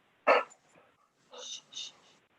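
A dog barks faintly in the background of a zoning board meeting held online: one sharper bark, then two softer, muffled yaps, with no talking over them.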